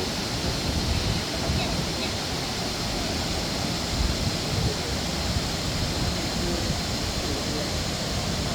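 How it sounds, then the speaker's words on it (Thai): A waterfall roars steadily, a dense, constant rush of falling water that fills the whole stretch without any letup. "เสียงพลังแห่งน้ำตก"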